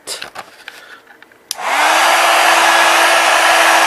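A hot air blower heating a Tab 4 tablet with a broken touchpad switches on abruptly after faint handling noises, then roars loudly and steadily with a constant airy whoosh and a faint hum.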